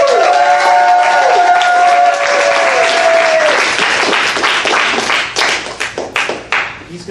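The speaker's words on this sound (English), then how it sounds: "we're going to give him better claps until finally he gets it" A crowd at a JesterZ sidestage show claps and cheers loudly, with a sustained whoop riding over dense applause that then thins into scattered, separate claps near the end.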